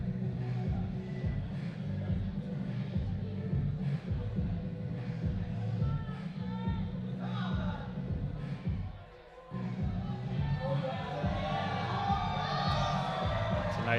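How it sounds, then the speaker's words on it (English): A crowd at a sport climbing lead competition final keeps up a steady murmur of cheers and shouts for a climber, a dense rumbling wall of voices that dips briefly and then swells louder near the end. "Austin hears the crowd calling out to him, and he's excited about that"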